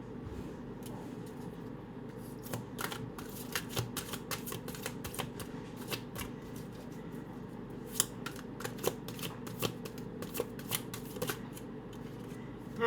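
Deck of cards shuffled by hand, with a run of quick riffling clicks and flutters in uneven bursts, fairly close and soft over a low room hum.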